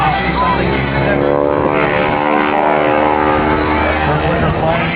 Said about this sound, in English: Jane Wicker and her Super Stearman that she affectionately calls Aurora.